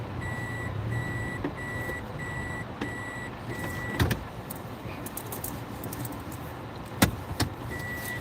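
A car being moved to another parking spot sounds a row of evenly spaced electronic chimes, then stops amid low engine and ambient noise, with a couple of sharp clunks and knocks along the way.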